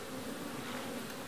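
Young honeybee nurse bees crowd a nuc box, making a dense, steady buzzing hum that stays close and even throughout.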